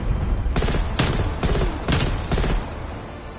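Gunfire from a Call of Duty match comes as a rhythmic series of about five sharp, loud shots spaced roughly half a second apart, each landing over a steady bed of battle noise.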